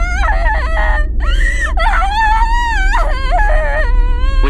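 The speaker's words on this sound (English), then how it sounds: "her mom woke up to the sound of a loud scream from Sarah's room." A loud, shrill screaming sound effect, a series of wavering high-pitched cries and wails that rise and fall over a low droning hum.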